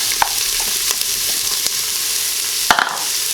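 Onions sizzling in hot oil in an Instant Pot on saute: a steady, close frying hiss with a few soft clicks and a brief stir or clatter near the end.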